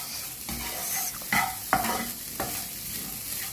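Egg and rice frying and being stirred in a pan in a home kitchen, a steady sizzle broken by a few sharp scrapes and stirring clatters, close and alone with no voices.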